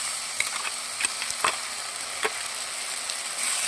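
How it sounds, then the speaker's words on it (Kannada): Ginger, garlic and onion paste fries in a pan, with a steady bright sizzle and occasional stirring scrapes throughout. "ಇದರ ಹಸಿ ವಾಸನೆ ಹೋಗೋವರೆಗೂ ನಾನು ಫ್ರೈ ಮಾಡ್ಕೊಳ್ತಾ ಇದ್ದೀನಿ."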